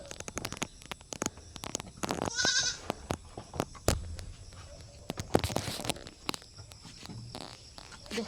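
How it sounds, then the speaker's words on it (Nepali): Goats kept at a rural family home in Nepal bleat in a short, fairly near call amid scattered knocks, clatter and footsteps, with faint outdoor background sound. "बाख्राहरू छ"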